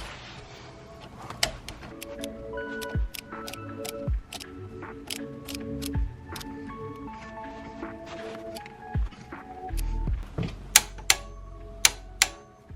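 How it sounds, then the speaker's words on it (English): Rear differential bushing bolts on a Ford Focus RS with Powerflex inserts are torqued to spec, giving a series of sharp ratcheting clicks and metallic ticks that come in irregular bursts, close up, with music in the background. "So now we can torque this up to spec."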